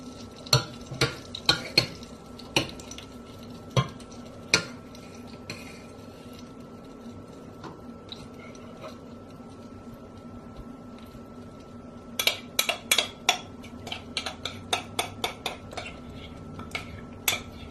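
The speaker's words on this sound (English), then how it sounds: "just keep that peanut butter mixing in with the lard" Peanut butter being stirred into melted lard in a pot for bird suet, with repeated scraping clinks of a utensil against the pan in bursts over a soft sizzle, no speech.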